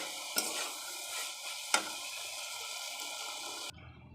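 Chopped tomato with salt and turmeric sizzles in a pan for chickpea ghugni, with soft steady frying and two sharp stirring knocks before the sound cuts off abruptly near the end.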